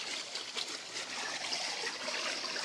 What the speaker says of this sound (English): The water flows down and spins the ball there